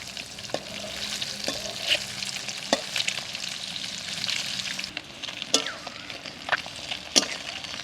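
Egg frying in oil in a pan while being stirred, a continuous soft sizzle broken by repeated scraping and tapping stirs at irregular intervals, close and moderately quiet, no talking.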